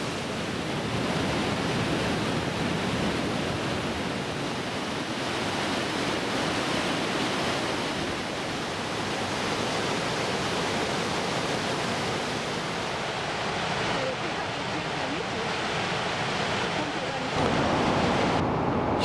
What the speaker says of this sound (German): Von Aussichtsplattformen kann man die Wassermassen bestaunen